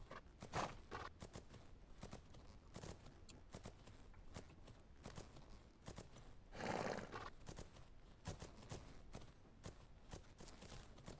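In a horse video game, a horse whinnies once in the middle, among regular clip-clopping hoofbeats on a hard surface, all fairly quiet.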